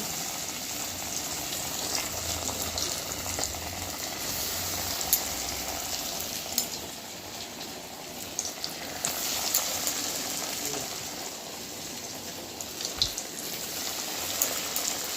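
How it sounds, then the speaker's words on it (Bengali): Breaded chicken pieces frying in oil over a medium-low flame, a continuous bubbling sizzle with small crackles and pops scattered through it, heard up close and alone. "এই যে মিডিয়াম টু লো ফ্লেমে ভালো করে ভেজে নিয়েছি।"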